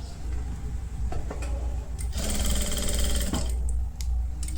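Sewing machine stitching the seam of an A-line kurti, a continuous mechanical whir with rapid ticking, running steadily throughout with a denser burst in the middle.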